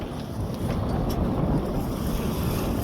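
Steady wind rushes over a small sailing boat crossing the Doom Bar off Padstow, a continuous close-miked roar with low buffeting and water wash underneath and no talk.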